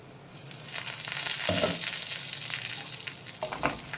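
Bitter gourd fry with onions, garlic and curry leaves sizzling steadily in a pan, a continuous close frying hiss with soft stirring and scraping sounds, no talking.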